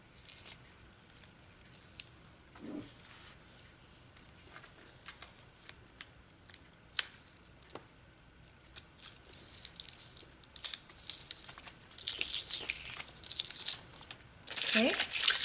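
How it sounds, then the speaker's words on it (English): Crinkly peeling and crackling as vinyl waste is pulled away while weeding a Cricut vinyl project, faint close-up rustles that build into louder tearing near the end. "I'm going to go ahead and peel all the waste away."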